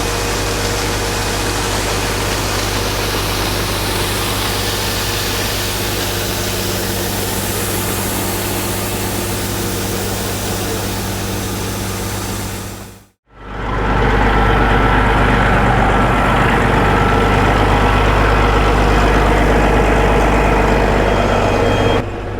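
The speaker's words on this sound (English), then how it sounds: "There's a truck filling it up." A truck on a farm idles while an auger fills it with wheat. Its steady, low, droning engine hum cuts out briefly partway through, then resumes louder; no one speaks.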